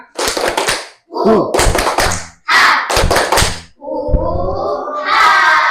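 A class in Indonesia doing the rhythmic 'tepuk semangat' clap chant, loud close bursts of group clapping in patterned groups mixed with chanted voices, separated by short pauses.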